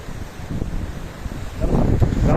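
Wind whips spray off the reverse waterfall at Sadavaghapur, a gusty rushing roar that swells louder toward the end, with no one speaking.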